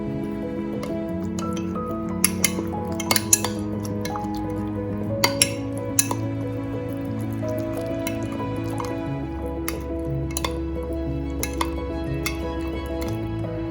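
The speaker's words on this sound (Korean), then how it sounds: "1스푼, 국간장 작은 술로 하나, 멸치액 1스푼, 둘 섞어주세요" Soup soy sauce and anchovy sauce being mixed for a bok choy kimchi dressing, heard as soft drips, squishes and light clinks of a spoon and dish. Quiet background music plays underneath, with no talking.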